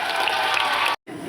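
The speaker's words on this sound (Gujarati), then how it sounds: "જોરદાર તાળી" Dense clapping from a school crowd celebrating a newly elected Class 8 class representative at a school panchayat election; steady, loud applause that cuts out briefly, then resumes.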